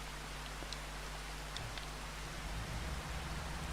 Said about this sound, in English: Shame about this rain.